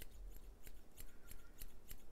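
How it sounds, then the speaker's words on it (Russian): Small hairdressing scissors snip repeatedly, quiet crisp metallic cuts at a steady, quick rhythm about every third of a second, close to the microphone and with no talking. "Да, вот эти маленькие ножницы, слышите, как у них звук?"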